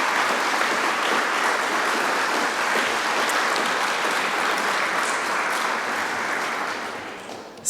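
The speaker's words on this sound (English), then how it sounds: "give everybody a round of applause for your support" An audience at the Benton Institute's 40th anniversary opening remarks claps in a steady, dense wash that holds at even loudness for about seven seconds, then starts to fade.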